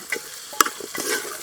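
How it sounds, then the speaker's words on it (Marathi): Chicken biryani masala sautéed in a pot at a farm: brief scraping stirs and a soft sizzle, with a sharp clatter midway, close and fairly clear. "म्हटलं मस्त परतून घेऊ पहिले, मग पाणी टाकू"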